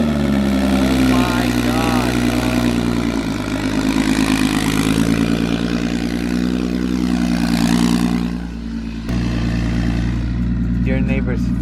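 A BMW 335 with a hood exit idles with a deep, loud, steady rumble, close by, its engine note dipping briefly toward the end before settling again.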